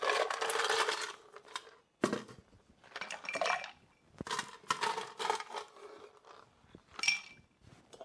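Ice cubes clatter and rattle against a cocktail mixing glass as a spoon stirs them, in several bursts of clinking with short pauses between, close and fairly quiet.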